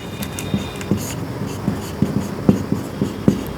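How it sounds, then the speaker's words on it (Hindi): Pen strokes on paper while notes are taken, a steady pattern of short scratchy taps and scrapes close by with no talk over them. "अब यहां पे लिखते हैं ट्रोनिका सिटी।"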